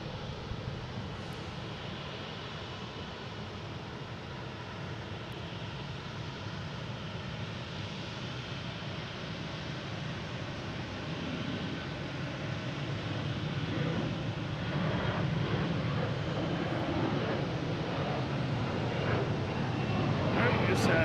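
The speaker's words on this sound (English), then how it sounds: "we just had a Delta takeoff heading to Orlando" A Delta airliner taking off at Boston Logan Airport, a distant, broad engine roar that swells gradually, with people talking over it.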